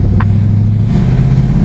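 A 1969 Dodge Super Bee muscle car's engine rumbles steadily and loudly from inside the car during a ride, a deep continuous drone with no talk.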